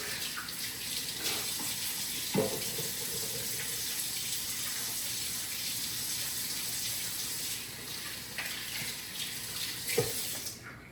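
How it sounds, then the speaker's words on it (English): Hands washed under a running kitchen tap while making Neapolitan pizza dough, a steady hiss of flowing water throughout with a few brief splashes and knocks, fairly close. "Wash my hands real quick."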